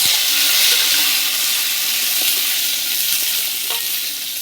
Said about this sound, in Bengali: আমড়াগুলোকে একটু রসুনের সঙ্গে ভেজে নেব